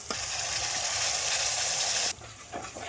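Curd goes into a hot pan for Rajasthani gatte curry over a full gas flame and is stirred fast: a loud, dense, steady sizzle for about two seconds, then a sudden drop to quieter crackling with faint scraping.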